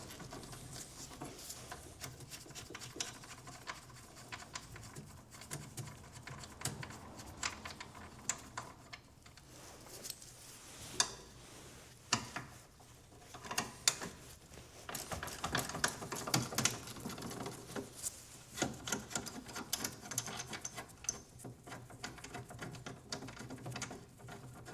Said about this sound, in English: So ideally for this, a ratchet spanner, 13mm socket, whatever you've got kicking about.